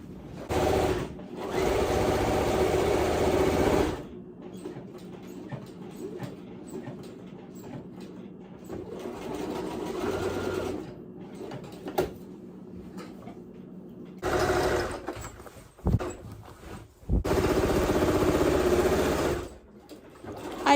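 Sewing machine stitching around the edge of a quilt made from a curtain, running in long steady whirring bursts separated by pauses, loud and close.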